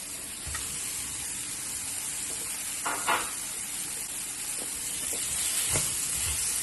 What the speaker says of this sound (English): Now I'm going to add some frozen peas.